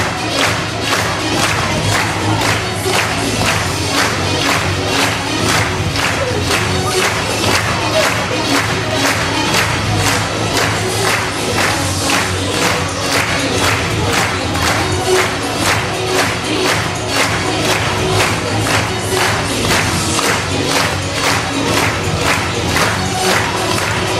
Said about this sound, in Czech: Potlesk nebral konce.